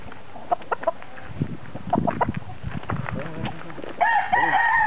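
Chickens cluck and squawk nearby in scattered bursts, then a rooster crows loudly near the end.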